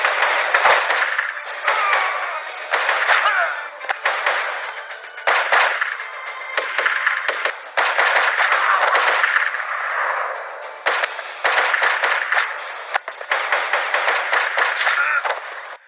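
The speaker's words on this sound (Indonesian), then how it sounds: "terjadilah baku tembak di sini" A film shootout as terrorists ambush American troops outside a house, rapid gunfire bursts crackling repeatedly and loudly under a narrator's voice, with clanging impacts scattered through.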